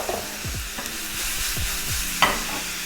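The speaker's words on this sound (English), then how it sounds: "I'm gonna throw in my tomatoes." Tomatoes tossed into a hot pan of browned, crispy onions and peppers for lomo saltado, giving a steady close sizzle with a few low thuds and stirring scrapes, plus one sharp clatter near the end.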